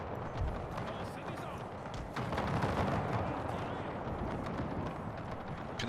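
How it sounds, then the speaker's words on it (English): Dense, continuous battle din of musket and artillery fire in the Napoleonic-era strategy game Napoleon Total War with the Era Mod, booming and crackling steadily throughout, growing louder midway. "Continue to fire to"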